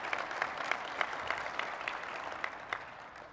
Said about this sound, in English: You can clap, it's okay.